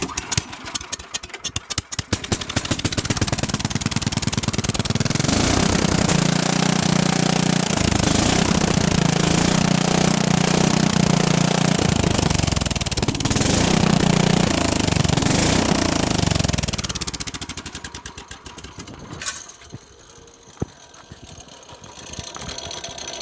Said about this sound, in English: since the chain's not on, I can rev it up too